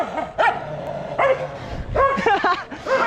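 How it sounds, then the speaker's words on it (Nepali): A black dog and a brown dog fight on a street, with bursts of barking, yips and whimpering snarls close by, repeated several times, while a person talks over the commotion. "कालो कुकुर अनि ब्राउन कुकुर लड्छ"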